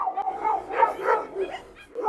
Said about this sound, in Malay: dia menyalak sebab nak main ke atau sebab nak serang?